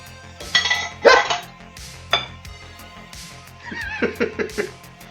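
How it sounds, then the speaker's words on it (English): A metal whisk falling out of a mixing bowl during carbonara prep, clattering and clinking against the bowl in a few bright metallic bursts, with a dog barking nearby and a steady kitchen hum beneath. "That wasn't the whisk falling out and trying to fall on the floor"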